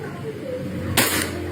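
An E&C Glock 19X gas blowback airsoft pistol fires a single sharp, close shot mid-way, a quick crack with a brief hiss of gas over low background noise.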